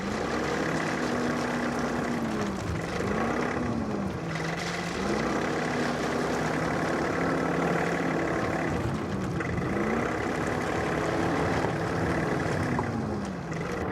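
John Deere 3046R compact tractor with loader spreading 2-inch rock on a driveway, its engine running steadily with a low drone that dips and rises in load a few times, nearby and continuous.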